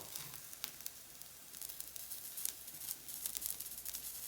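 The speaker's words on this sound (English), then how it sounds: "I'm going to introduce the chilies now." Chilies go into a pan and sizzle faintly, a soft crackling hiss with small irregular pops and spits scattered over a few seconds, quiet and close, with no speech.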